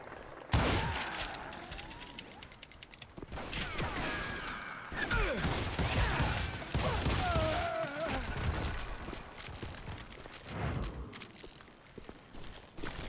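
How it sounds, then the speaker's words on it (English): Rapid gunfire in the western shooter game Call of Juarez: Gunslinger: dense bursts of shots and booms with metallic mechanism clatter, loud and close, continuing through the whole stretch amid game sound effects. "Wow, he can rapid fire,"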